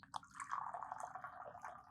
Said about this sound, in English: You tilt the lid back a little bit before you pour.